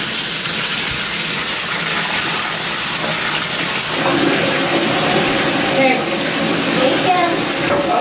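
Bathwater gushes steadily from a tap into a tub being filled for a toddler's bath, a broad continuous rush with faint voices and movement in the background.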